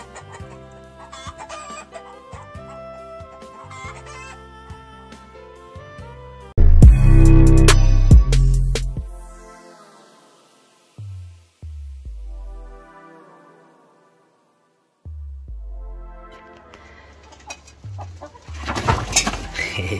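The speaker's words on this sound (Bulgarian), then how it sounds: "Ето ги и кокошките, които снасят тези бели яйчица." Egg-laying hens that lay white eggs cluck nearby in short bursts, with a loud clattering burst midway and quieter pauses between.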